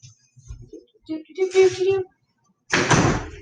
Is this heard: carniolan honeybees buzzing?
no